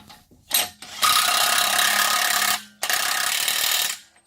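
Power tool tightening the axle nut on a 2008 Saab 9-3 with a 2.8 L V6: a short burst, then two sustained loud ratcheting whirs separated by a brief pause, close up with no talk.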